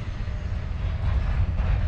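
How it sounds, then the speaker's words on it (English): Big freight train of potash cars passing in Saskatchewan, a steady loud low rumble with rolling wheel noise that swells slightly toward the end, with no talk. "Another big train going, all potash cars."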